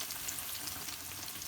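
Crispy iftar snacks fry in hot oil, giving a faint, even, bubbling hiss that holds steady for a brief moment.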